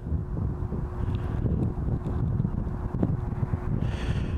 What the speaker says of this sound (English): Okay, we're getting some wind there.